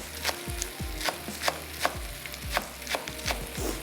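Green onion tops are finely sliced with a knife on a board, about ten crisp evenly spaced chops with a steady rhythm, close and clear with no talk.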